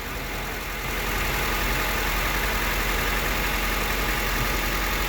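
A 2011 Honda Civic engine idles with a slightly shaky, uneven rumble after its ignition coil is refitted, running steady and fairly loud with no talk.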